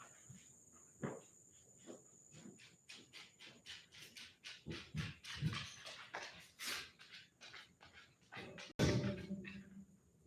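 Dog at home moving around and heading outside, with soft claw taps, shuffling and small whimpers in a quiet room, then a sharp clatter near the end; faint and close, no talk.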